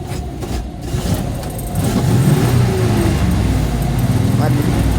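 A car engine running in cold weather, idling with a rough low rumble that swells into a louder sustained rev partway through and holds there, heard up close.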